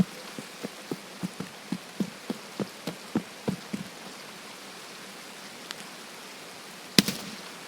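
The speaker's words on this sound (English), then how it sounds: "Just all you hear is the rain." Video game rain: steady rain hiss with a run of soft regular drips or thuds early on, then a sharper clatter near the end; no voices.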